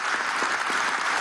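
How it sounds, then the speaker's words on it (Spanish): An audience applauds in tribute to Juan Pablo Pérez Alfonso at a ceremony marking 55 years of OPEC, a dense, even wash of clapping heard with no voices over it. "Juan Pablo Pérez Alfonso, al cual quiero, a través de un gran aplauso, rendirle homenaje de la patria entera, al doctor Juan Pablo Pérez Alfonso,"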